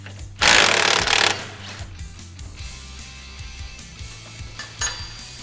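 Metal parts clank and clatter as a shock absorber is unbolted from the A-arm of a Polaris RZR XP 1000 side-by-side, with a loud burst of rattling early on, then quieter scattered knocks and one last clank near the end.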